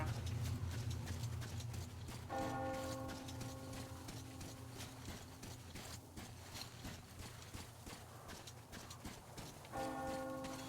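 A bell ringing in the Metro Exodus game, sounding in two faint tolling bursts over horse hooves clip-clopping and a low background rumble.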